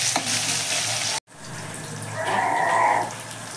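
Potatoes dropped into a pan of oil with cumin seeds sizzle steadily. A brief break gives way to renewed, louder frying hiss with some stirring.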